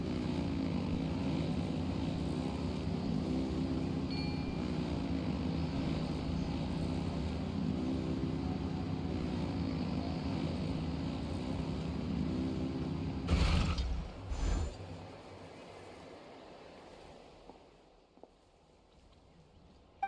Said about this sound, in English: Rev the engines!